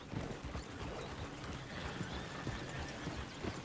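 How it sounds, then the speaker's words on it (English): Horses clip-clopping in the western video game Red Dead Redemption, a steady clatter of hooves under a busy, noisy game ambience with no one talking. "Oh, shit, the horses! Damn horses!"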